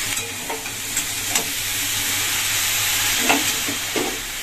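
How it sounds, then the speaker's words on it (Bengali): Potato and eggplant stir-frying in a pan, with a steady loud sizzle and occasional scraping strokes of a spatula, close up and with no talk. "এবার আমি ভালো করে আলু বেগুন কষিয়ে নেব।"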